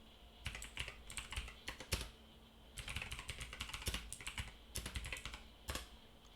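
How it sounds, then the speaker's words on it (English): Someone types on a computer keyboard close by, quiet bursts of rapid key clicks separated by brief pauses, with no speech. "I'll just type it up."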